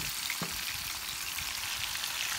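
Fish frying in hot oil, a steady close sizzle with crackling pops running throughout, no talk over it.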